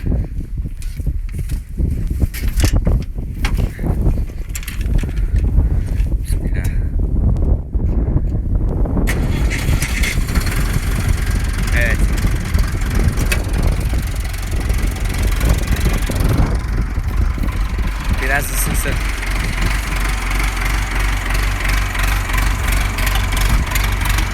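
A heavy diesel engine of a Deutz Fahr 185 tractor cranks and catches, then runs at a loud, steady rumbling idle for a long stretch, with some wind noise.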